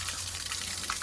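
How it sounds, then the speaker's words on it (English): An outside garden tap runs at full flow into a plumber's measuring flow cup, a loud, steady, broadband hiss and splash of gushing water that continues without a break and with no talking. "We've got an outside tap, so we can just check the water pressure or flow, water flow should I say, with the outside tap."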